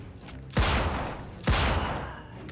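Two sharp gunshot bursts in the video game Mafia 2, each a loud cracking blast that rings out and decays, about a second apart, over a low background hum.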